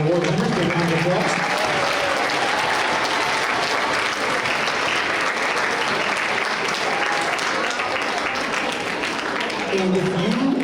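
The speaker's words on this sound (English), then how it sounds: "Give a round of applause." Sustained crowd applause at a middle school awards ceremony for student award winners and their families, loud and steady throughout with some voices mixed in.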